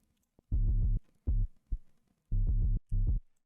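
Deep synth sub bass layered with plucks in a mid-tempo electronic track, heard as heavy, low, chopped notes in short bursts with quiet gaps between them.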